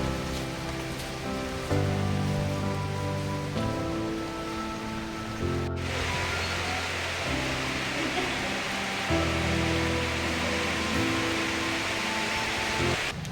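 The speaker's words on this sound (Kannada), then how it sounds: "ಮಳೆ ಬರುತ್ತಾ ಆಯಿತು" Steady rain falls throughout, a dense hiss under a sustained low musical drone, with a brief sharp break midway.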